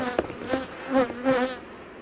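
Honeybees buzzing close by during a hot-weather hive inspection, the smoked bees growing slightly agitated; several rising and falling swells of buzzing with no talk over them.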